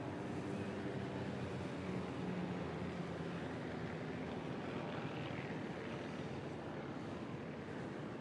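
Steady broad roar of an aircraft flying over the field at a balloon fiesta, constant and unbroken throughout, with no voices.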